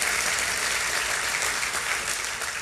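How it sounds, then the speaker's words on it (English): Church congregation clapping in thanks during a service, a loud, even, continuous roar of many hands with no speech over it. "that's worth a hand clap of thanks to the Lord"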